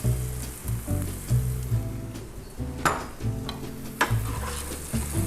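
Minced garlic frying in a pan for Pinoy-style paella, a steady close sizzle broken by repeated stirring scrapes and knocks of a utensil against the pan.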